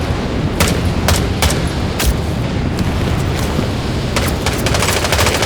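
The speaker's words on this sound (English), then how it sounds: "the explosions and sound of bullets flying by is just flat" Combat in the Vietnam-era shooter Hell Let Loose Vietnam: a dense, continuous bed of gunfire and rumbling explosions, punctuated by several sharp, loud cracks of nearby shots.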